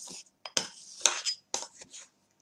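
Peanut butter stirred in a bowl with a spoon, giving several short scraping and clinking bursts against the dish, close and fairly quiet with brief pauses between strokes.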